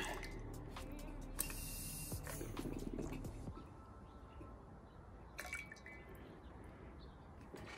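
A circuit board being rinsed in liquid during processing, soft wet sloshing and drips up close, quiet and intermittent, with a few sharper splashes and trickles.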